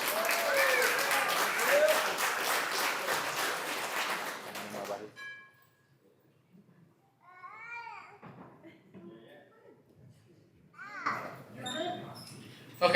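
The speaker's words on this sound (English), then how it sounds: "Give it a round of applause" Wedding reception guests applaud in a sustained burst of clapping for about five seconds, then the room falls to scattered chatter, a voice and murmuring in the background.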